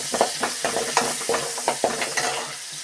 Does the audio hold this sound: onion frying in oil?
yes